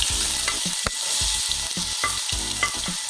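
Onions frying in hot masala for chicken keema biryani, a loud continuous sizzle broken by repeated scraping stir strokes of a spoon against the pan in an uneven rhythm, close up with no voices.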